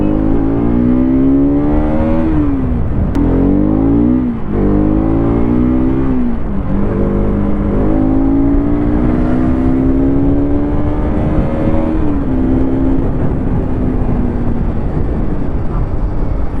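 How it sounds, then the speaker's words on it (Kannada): A 2025 Bajaj Pulsar RS200 motorcycle ridden through city traffic, its engine note rising and falling steadily through revs and gear changes, loud and close throughout. "ಆ್ಯಕ್ಚುಯಲ್ ಸಿಟಿ ಟ್ರಾಫಿಕಲ್ಲಿ ಓಡಿಸಿ ನೋಡೋಣ ಗಾಡಿನ"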